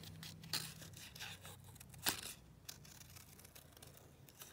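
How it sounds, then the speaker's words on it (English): Scissors cut a paper butterfly out of a sheet in a series of quick, close snips and soft paper rustles, one sharper snip standing out, with no talking. "I'm going to cut myself another butterfly"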